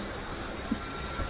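A crowded Howrah to Digha local train in motion, heard from on board as a constant rumble of wheels and carriage noise with a faint squeal and a couple of small knocks.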